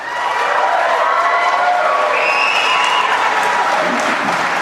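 Loud, sustained applause and cheering from a debate audience at a Conservative leadership debate fill the whole stretch, a dense wash of clapping with whoops rising over it.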